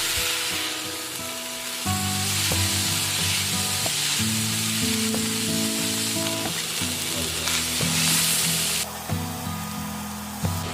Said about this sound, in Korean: 꼴뚜기에 양념이 배이도록 잘 섞으며 볶아주세요.